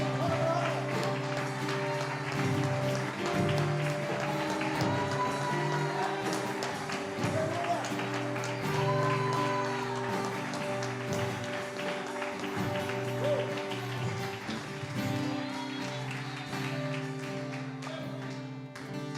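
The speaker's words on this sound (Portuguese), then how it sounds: "Vamos bater uma palma de palmas por Jesus, que Ele merece" A church congregation claps along with joyful worship music, loud rhythmic clapping blended with singing and instruments over about nineteen seconds, continuous throughout.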